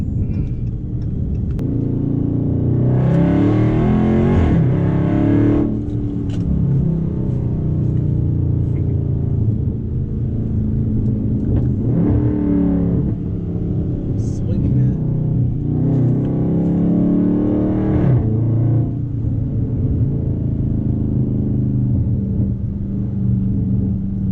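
A 2019 Dodge Charger Scat Pack V8 heard from inside the cabin, with a loud low engine drone that swells in several rising rev bursts over a constant rumble.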